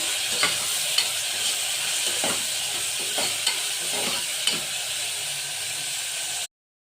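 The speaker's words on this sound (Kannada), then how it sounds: "ಈರುಳ್ಳಿ ಟೊಮೊಟೊ ಎರಡು ಫ್ರೈ ಆಗಿದೆ ಎಣ್ಣೆ ಚೆನ್ನಾಗಿ" Onion and tomato fry in hot oil for a horse gram sprout sambar, a steady close sizzle broken by periodic scraping stirs, with no talking.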